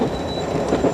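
Steam train at Steamtown running along rails, a steady dense low rumble of carriages and wheels with a faint high whine over it, continuous and fairly loud throughout.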